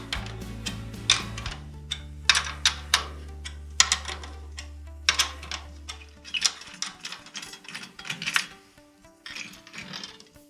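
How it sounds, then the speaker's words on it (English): A drum key turns the tension lugs on an Artist ADR522 drum kit, giving a series of sharp, close mechanical ratcheting clicks in irregular bursts over a low steady hum that fades partway through. "you want to evenly loosen all the lugs before you remove the skin"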